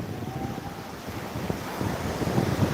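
Steady roar of sea waves breaking on Tiruchendur beach, mixed with gusting wind buffeting the microphone, continuous and fairly loud with no voices.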